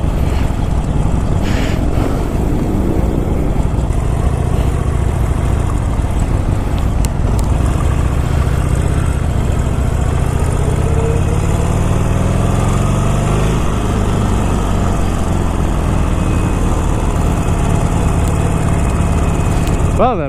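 A 2019 Harley-Davidson Iron 1200 motorcycle on a test ride, its engine a steady low rumble throughout, mixed with constant wind buffeting the microphone.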